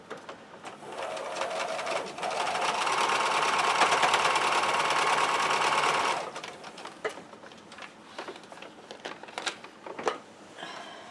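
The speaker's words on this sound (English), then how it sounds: "line this up in the machine and sew a 1/4 inch seam allowance" A sewing machine runs a quarter-inch seam in one steady, fast-stitching burst lasting about four seconds. It stops abruptly, and scattered handling clicks and fabric rustles follow.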